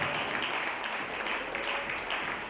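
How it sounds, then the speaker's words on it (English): A church congregation claps hands in a dense, continuous round of applause that fills the room at an even level throughout. "Can you clap hands for all the worshippers in the house, the worship leaders?"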